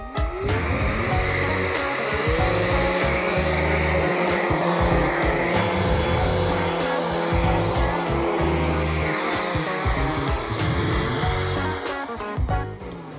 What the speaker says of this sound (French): Du coup, on va prendre aussi l'aspirateur à batterie.